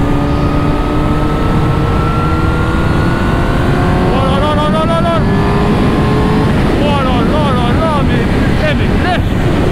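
A Honda CBR 1000 RR-R Fireblade motorcycle runs at full throttle in sixth gear, its loud sustained engine tone rising under heavy wind roar at close range, with a rider's voice partly over it.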